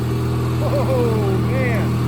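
Craftsman II lawn tractor engine running steadily in third gear, a close, even mid-pitched drone with a faint whine, while someone talks over it.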